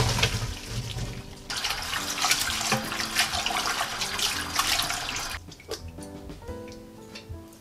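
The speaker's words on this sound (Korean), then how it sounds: "찬물로 씻어주겠어요." Boiled lotus root rinsed under a cold running tap, a steady loud rush of water that changes as the flow hits the root, then breaks into scattered splashes and drips near the end.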